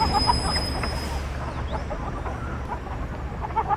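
Chickens cluck softly and intermittently at a poultry shop, fairly faint over a steady low background hum.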